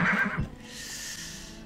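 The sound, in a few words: horse neigh from cavalry in video game Farthest Frontier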